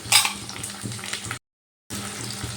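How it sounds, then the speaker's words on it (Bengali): A ginger-tomato paste hits hot oil with a sharp initial hiss that settles into a softer sizzle with stirring scrapes, broken by a brief silent gap before the frying resumes. "এবার আমি ওই তেলের মধ্যে দিয়ে দিচ্ছি দু চামচ আদা টমেটোর যে পেস্টটা বানালাম"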